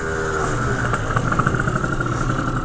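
A Honda Ruckus scooter fitted with a Zuma motor idles close by, its small engine putting out a steady low putter with slight uneven wavers.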